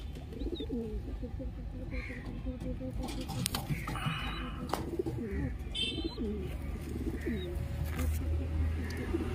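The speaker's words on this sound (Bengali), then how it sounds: "দেখুন পায়রাটা কেমন।" A white pigeon coos repeatedly close by in a rural home, with soft, rhythmic coos, other birds chirping, and voices talking quietly in the background.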